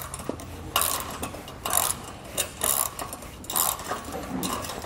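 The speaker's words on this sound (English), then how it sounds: "Come back with my ratchet and wrench and tighten it down." A ratchet wrench tightens a nut on a trailer bolt, its pawl clicking in several bursts of rapid ratcheting strokes with brief pauses between, close and clear with no talking.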